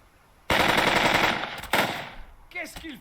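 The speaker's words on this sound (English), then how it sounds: "So we got a machine gun out here we have to deal with." Sustained machine gun bursts in the Burden of Command tactical war game, loud rapid automatic fire that starts abruptly, carries on for over a second with a second burst, then tails off into fainter trailing sounds.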